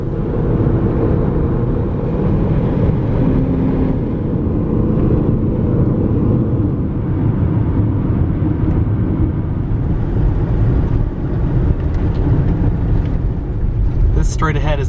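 An SUV drives along a road with a constant, loud rumble of engine and road noise from inside the cabin, steady throughout.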